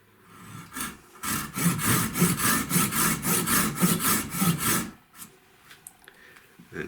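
A Silky Super Axle Z1 pruning saw cuts through green wood in about fifteen quick rasping strokes at an even rhythm, close and loud, then stops abruptly and leaves a quiet tail.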